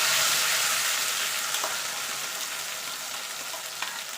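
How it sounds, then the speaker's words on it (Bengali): A paste of tomato, green chilli and ginger hisses and sizzles steadily in a pan of tempered spices, a close bright frying sound with a few light stirring taps. "টমেটো, কাঁচা লঙ্কা আর আদাটা যে পেস্ট করে রেখেছিলাম সেটা দিয়ে দেবো"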